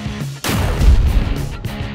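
Explosive blast from a Power Rangers Megazord toy weapon sound effect, a sudden loud boom followed by a rumbling, crackling decay that fills the rest of the moment.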